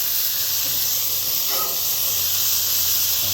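Onions sizzling on a Cuisinart 3-in-1 pizza oven griddle after being flipped, a loud, steady, close hiss that holds without a break.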